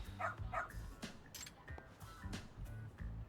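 A dog barks in the video game Lost Judgment, with two short barks near the start and softer canine sounds afterward, all fairly quiet over the game's ambient sound.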